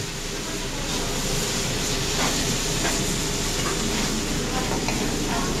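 Water is poured into a hot cooking pan during catering cooking with mixed vegetables, giving a steady, loud hiss and sizzle that runs without a break throughout.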